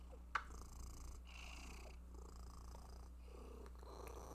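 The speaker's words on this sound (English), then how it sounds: "You have such a nasally purr." A cat purring close by with a nasal, rattling quality, steady continuous rumbles in slow breaths alongside faint video game background sound.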